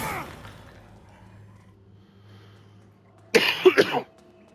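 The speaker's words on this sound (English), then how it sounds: "I will cough a bit because I'm getting over quite a bad infection, chest infection." A person recovering from a chest infection gives a brief burst of several harsh, close coughs near the end, after a faint exhale and quiet low hum.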